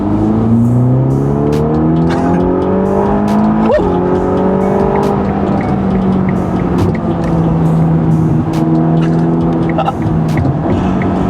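A Ferrari Roma V8 sports car engine roars loudly during a rolling launch from third gear, revs climbing through gear changes with sharp shift breaks, sustained and close throughout.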